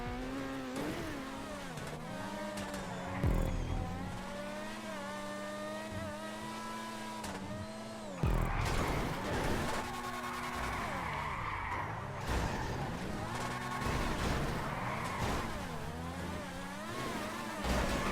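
Open-wheel Progen PR4 F1 race car engines in GTA Online, screaming and revving continuously with gear shifts, pitch sweeps and tire squeal as cars jostle in a race, loud and unbroken throughout.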